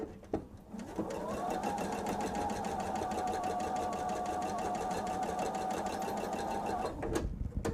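A sewing machine stitches a seam on a bench pillow, running steadily and loudly for about six seconds with a rapid, even mechanical hum, then stopping, with no talking.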